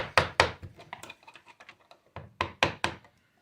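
A run of sharp knocks and thuds as a hinge pin is pounded out of an interior door, a few heavy blows spaced irregularly with lighter taps between, close by and with no talking.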